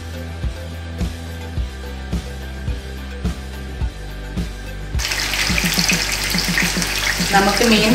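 Fish being lightly shallow-fried in a pan for fish biryani, a sizzle that swells into dense crackling frying after a few seconds of quiet rhythmic kitchen knocks.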